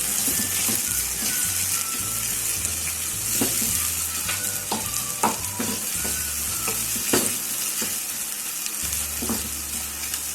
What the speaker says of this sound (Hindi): आनियन डाल दी, प्याज को हम ब्राउन कर लेंगे।